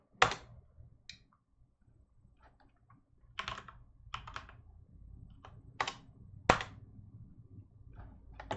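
Someone typing on a computer keyboard: scattered, irregular key clicks and short bursts of taps, close and crisp against a quiet background, with no talking.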